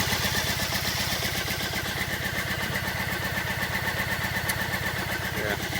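A Triumph Bonneville motorcycle engine idles steadily while warming up, with a continuous low rhythmic thrumming and no revving, heard up close.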